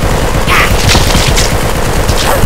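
Rapid gunfire from a first-person action video game against a Diablo-worshipping cult rattles loudly and continuously, dense automatic bursts filling the whole moment with no talk.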